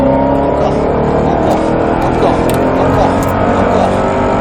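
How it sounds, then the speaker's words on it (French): V8 race car engine revving hard on a track during a driving course, a loud continuous roar that holds steady throughout, with an instructor's voice talking over it. "Fais-moi chanter ce V8."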